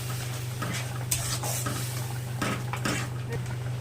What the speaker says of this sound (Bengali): ফেটানো দইটা ফেটিয়ে রেখেছিলাম আমি আগে এটাকে দিয়ে আমি ওই মশলাগুলো ভালো করে কষিয়ে নিচ্ছি